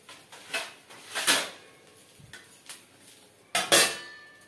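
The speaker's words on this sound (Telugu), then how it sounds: "వేసిన తర్వాత దీని మీద మనం మూత పెట్టుకోవాలి." A metal lid clatters onto a hot pan while jowar roti cooks on a stove, with several sharp clanks and rattles spread over a few seconds.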